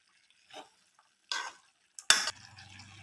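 Brief scraping stirs of tomato and coriander in a pan for a hotel-style vangibath, a few separate spoon strokes followed by a soft, low sizzle continuing quietly to the end.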